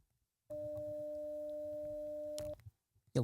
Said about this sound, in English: You'll get that noise, basically saying, hey, no one's available, essentially.